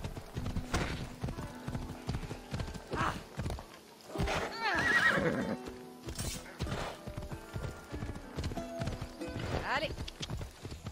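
Horse hooves clip-clop in steady rhythm in the video game Assassin's Creed Odyssey, with a horse neighing loudly midway, while someone talks over the scene.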